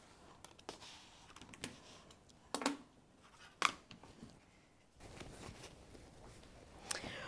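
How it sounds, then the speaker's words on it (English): Scissors snip through embroidered fabric tiles on a worktable, a few separate sharp cuts and rustles, soft and close with quiet pauses between them. "the next thing that I'm going to do is properly trim my tiles"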